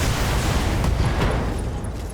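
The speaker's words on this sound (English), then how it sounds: "Ammo explosion." Ammunition cooking off inside a damaged mech in the BattleTech video game: a dense, continuous rumbling blast that stays loud and steady for a couple of seconds, with crackling bursts on top.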